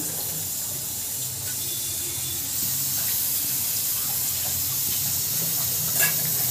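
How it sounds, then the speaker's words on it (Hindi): Papdi (flat fried dough crisps) dropped all at once into hot oil at medium heat, giving a steady, fairly loud sizzling hiss that swells slightly partway through and holds without talk. "और मीडियम आंच में इसे लाल होने तक फ्राई करना है तो ये मैंने सारी पापड़ी डाल दी है"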